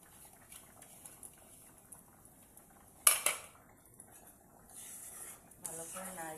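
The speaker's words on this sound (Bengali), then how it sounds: "ভালো করে নাড়িয়ে নামিয়ে নেব" Metal spoon stirring and scraping a pot of lentil dal with small fish and bean seeds, with a sharp clank near the middle and soft bubbling under a speaking voice.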